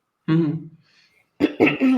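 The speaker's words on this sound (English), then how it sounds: "I'm going to clear my throat for just a minute." A single person clears their throat with a short rough cough, then a brief pause and a few quick follow-up throat sounds, close and fairly loud.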